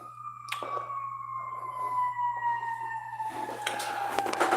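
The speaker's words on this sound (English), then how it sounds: "Sorry for the siren." A siren wails steadily throughout, its tone slowly falling, with traffic rumble and a few sharp clatters in the background.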